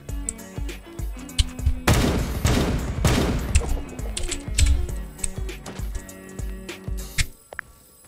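Gunfire in the Roblox game Da Hood, a dense burst of rapid shots with sharp cracks and clicking, fairly loud and continuous for several seconds.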